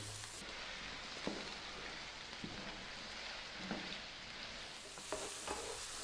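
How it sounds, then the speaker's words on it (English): Carrots fry over medium heat in a pan for a Thai vegetable curry, giving a steady soft sizzle with occasional faint scrapes and taps of stirring, quiet and without talk. "I'm now going to drop in my hardest vegetable, which is the carrots."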